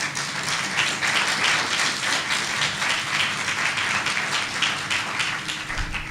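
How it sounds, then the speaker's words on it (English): Broad applause for a town's current mayor at a 150-year anniversary ceremony, continuous textured clapping from a crowd, steady and moderately loud throughout with no voices on top. "Let's give our current mayor a round of applause."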